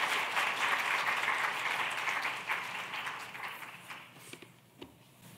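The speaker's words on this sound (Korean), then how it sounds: "큰 박수로 맞이해 주셨으면 좋겠습니다" A church youth gathering applauds to welcome its senior pastor, broad steady clapping from a crowd that gradually thins and fades toward the end.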